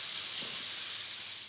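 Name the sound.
chicken and bacon frying and sizzling in a pan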